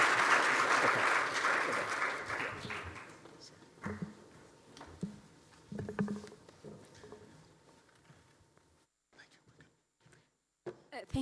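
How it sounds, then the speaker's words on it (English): A conference audience applauds the panelists, loud dense clapping at first that thins out and fades into scattered claps and murmurs, with a few isolated claps near the end. "give these wonderful panelists a round of applause"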